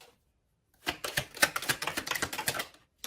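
Tarot cards being shuffled, a quick close riffle of crisp overlapping flicks lasting about two seconds after a brief silence, followed by a single card snap.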